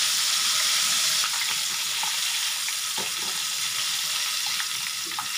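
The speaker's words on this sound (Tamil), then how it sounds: "சிக்கனு சூப்பராக ஃப்ரை பண்ணியாச்சு" Chicken frying in hot oil gives a steady, close broadband sizzle throughout, with a few faint clicks and pops over the constant hiss.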